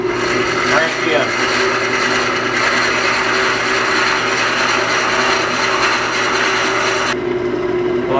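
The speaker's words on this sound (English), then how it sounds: "I bottomed out to where my other drill, my 1/2 inch drill went, so I'm drilling the whole thing" A half-inch drill bores into apple wood on a lathe, a loud steady grinding and rasping with a running motor hum underneath, close and continuous before cutting off abruptly near the end.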